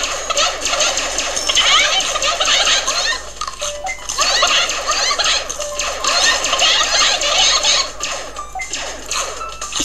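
Cartoonish chicken clucks and squawks from the video game Chicken Invaders: Revenge of the Yolk Christmas Edition, chattering densely and almost continuously with brief pauses, layered with game effects and no talking.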